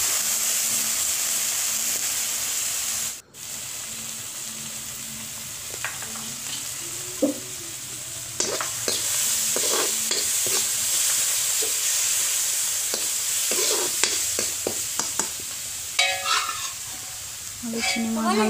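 Turmeric powder frying in a pan: a continuous loud sizzle with scattered scraping and stirring clicks that grow busier toward the end, with no talking.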